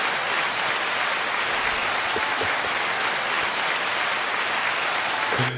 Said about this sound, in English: One more 9-second applause.